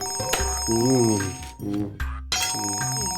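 A telephone rings loudly and close by, a warbling electronic tone repeating in bursts with short gaps between them.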